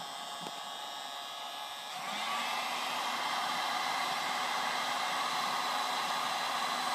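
A hot air tool heats a BGA chip during reballing, giving a steady blowing hiss that grows louder and fuller after about two seconds and then holds constant, with no voices.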